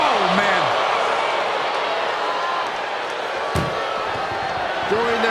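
An ambulance door slams shut during a WWE 2K24 ambulance match between Kurt Angle and Mark Henry: a single sharp bang in the middle, heard over a steady roar of crowd noise.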